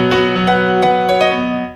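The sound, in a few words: keyboard piano with mids scooped out on EQ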